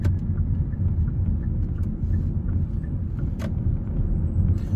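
A car rounds a roundabout during a driving lesson in Leeds, with a steady low engine and road rumble and tyre noise, and a faint knock partway through.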